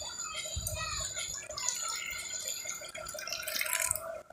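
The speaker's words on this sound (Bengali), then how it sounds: "সেই দুধটা এবার আমি পাত্রতে ঢেলে রেখে দেবো।" Cooled boiled milk is poured into a pot in a home kitchen for making yogurt, heard as a faint, close liquid trickle and splash that swells toward the end.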